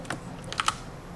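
A few light clicks of typing on a computer keyboard, close and quiet, with two or three sharper taps standing out over a faint room hum.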